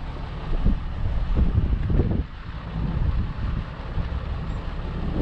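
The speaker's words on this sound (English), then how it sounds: "We're kind of up on this hill and the wind's been really chilly." Chilly wind gusting across a hilltop on open public land, a steady loud roar buffeting the microphone with stronger surges early on, no voices.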